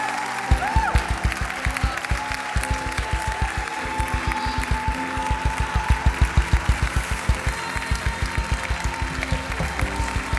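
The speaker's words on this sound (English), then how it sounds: "Clap your hands and celebrate." A church congregation claps hands in celebration, a loud, rhythmic, evenly paced beat close by, with a sustained musical tone and some voices underneath.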